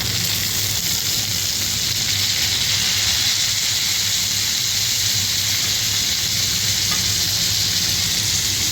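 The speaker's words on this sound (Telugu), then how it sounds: "ఇప్పుడు కట్ చేసుకున్న టమాటా వేస్తున్నా. ఒక కట్ట కొత్తిమీర కూడా వేసేస్తున్నా." Chopped tomatoes and a bunch of coriander sizzle in hot oil for a tamarind chutney, a loud, even hiss that holds steady throughout with no voices.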